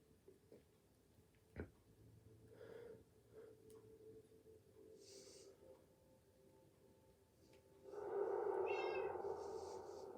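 Cats in a video game let out a few short meows amid soft game clicks and ticks, followed by a louder burst of game sound near the end, all fairly faint.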